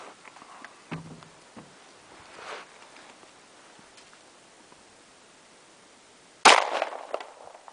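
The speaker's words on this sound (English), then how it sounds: "we just shot the Remington Gold Spear and it completely shredded the jeans." A single sharp gunshot cracks out loudly after several seconds of near quiet, as a Remington Golden Saber round is fired into pork ribs wrapped in denim, with a short ringing tail and a few faint knocks and rustles before it.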